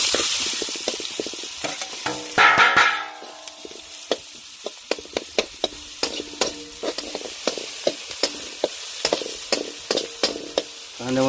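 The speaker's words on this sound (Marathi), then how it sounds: "तेल गरम झाले, आपण चिरलेला कांदा जरा परतून घेऊ." Chopped onion sautéing in hot oil in a kadai for a goat liver masala rice, giving a loud steady sizzle with a hissy burst early on and repeated clinks of a spoon stirring against the pan.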